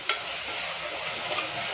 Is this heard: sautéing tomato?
yes